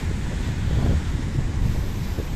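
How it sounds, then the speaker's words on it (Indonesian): Sea waves break against rocks on the coast at Tanjung Jara, Dungun, on an overcast day, making a steady, full surf roar heavily buffeted by wind on the microphone. "Memang cantik lah kalau kita tengok apa ni, ombak menghempas batu tu"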